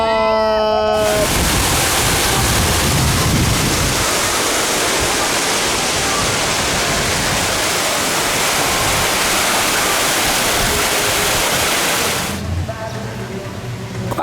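Loud, steady rush of splashing water at the Rapids water ride in a Madrid theme park, a continuous close roar that drowns everything for about eleven seconds before easing, with brief voices at the start and end.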